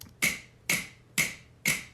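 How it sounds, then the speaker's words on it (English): Four crisp finger snaps, recorded as samples for a beat, land close and dry at a steady, evenly spaced rhythm, each a sharp bright click with a short decay, over a quiet background with no talk. "So I implore you to make your own finger snaps."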